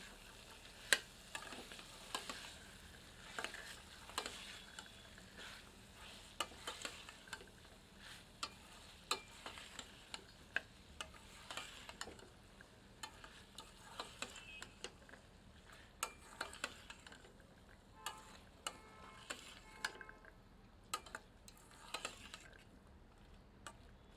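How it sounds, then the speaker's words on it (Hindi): Soaked kabuli chickpeas stirred into fried masala for Punjabi chole, with a ladle scraping and clicking in a steady, repeated rhythm over a faint, low sizzle, fairly quiet and close, with no talking. "भिगोए हुए काबुली चने सम्मिलित करते हैं, अच्छे से मिलाते हैं।"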